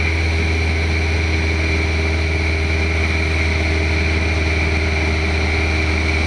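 Light aircraft engine droning steadily at cruise near 2200 RPM after levelling off, a loud constant low hum with a whining tone and broad cabin noise, no talk.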